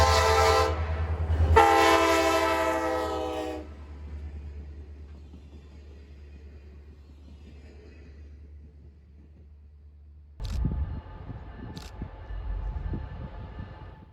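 The Alaska Railroad Healy Explorer cruise train passes at Beach Lake Road, with a loud horn blast up front, a fading low rumble of the cars rolling by, then a second burst of horn and rumble near the end.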